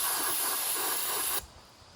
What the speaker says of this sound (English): I'm actually carb cleaning these bearings just to do the best I can to take care of what we have here